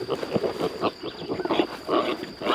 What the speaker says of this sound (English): Hey, pigs.